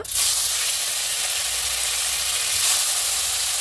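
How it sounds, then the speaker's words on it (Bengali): Paneer hits hot salted oil in a pan and sizzles at once, a loud, close, continuous hiss that holds steady for several seconds with no talking. "তেলটা গরম হয়ে গেছে। এখন এর মধ্যে দিয়ে দেব নুন। এখন পনিরটাকে হালকা করে ভেজে নেব।"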